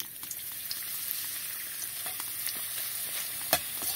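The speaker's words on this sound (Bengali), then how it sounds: "এক এক করে ভেজে নেব পাঁপড়গুলো" Soft, steady sizzle of papad frying in hot oil, dotted with small crackles and one sharper pop near the end, fairly quiet and close.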